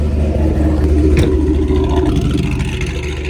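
Cammed LS2 V8 in a Pontiac GTO running rough just after a cold start after months parked, a loud, steady low rumble with a choppy lope and a brief clatter early on.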